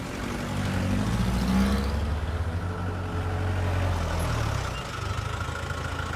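A car engine runs with a low, steady rumble, near and continuous, easing slightly toward the end.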